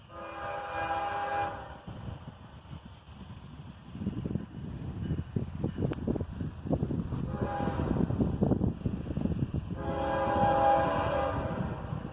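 A southbound freight train led by a single ES44AC locomotive rumbles past nearby, its horn sounding in three long blasts over the steady rolling roar of the cars, with wind buffeting the microphone.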